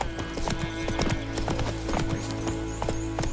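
Horse hooves clip-clopping at a steady trot in The Witcher 3 video game, a close, rhythmic series of sharp impacts running continuously over a low ambient game score.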